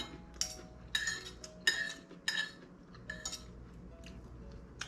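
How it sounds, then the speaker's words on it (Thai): Cups and dishes being washed, with cutlery and crockery clinking in a series of sharp, close knocks and chinks against a quiet outdoor background. "เดี๋ยวกินอิ่ม ล้างถ้วยล้างจาน"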